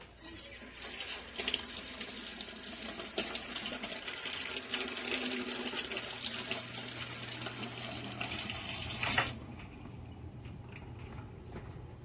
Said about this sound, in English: Let me just rinse that out. I like to rinse it out quick so it doesn't get coffee stuck in it.